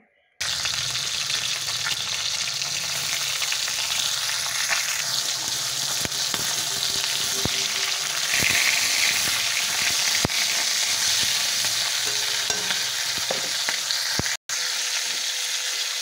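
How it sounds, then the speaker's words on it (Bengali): A fish head fries in oil left over from frying vegetables, producing a loud, unbroken sizzle that runs close and steady throughout, with one brief dropout near the end. "সব সবজিগুলো ভাজা হয়ে গেছে, এবার আমি মাছের মাথাটা ভেজে নেব"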